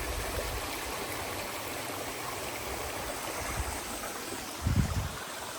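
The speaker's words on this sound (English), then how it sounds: "Nice little water source. Lots of running water." A trailside stream along the Appalachian Trail gives a steady, broad rush of running water throughout, with a low thump or two near the end and no talking.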